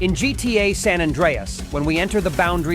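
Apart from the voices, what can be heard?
No everyday noises stand out.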